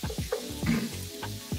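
Shrimp fry in a skillet, giving a steady, soft sizzle with a few faint clinks and stirring noises and no voices.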